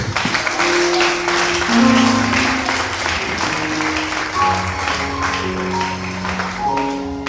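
A church congregation claps to acclaim the Lord, steady applause mixed with musical tones and some voices, moderately loud and continuous.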